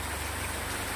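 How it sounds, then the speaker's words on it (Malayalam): Heavy rain pours down during a thunderstorm, a dense, even hiss of falling water heard alone for a brief moment. "മഴയുടെ സൗണ്ട് തന്നെ ഉണ്ട് അത്യാവശ്യം"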